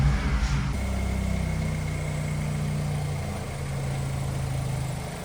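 A car fitted with a freshly flashed APR ECU tune turns over with a brief starter burst, then settles into a steady, close, low idle hum that holds evenly to the end.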